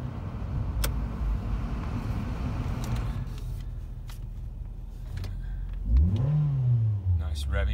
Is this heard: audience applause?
no